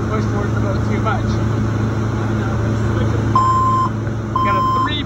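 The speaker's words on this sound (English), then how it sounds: "Got a 3-beep siren." A wake boat sounds a three-beep siren signal, two clear electronic beeps audible here over a steady engine drone, with people talking nearby.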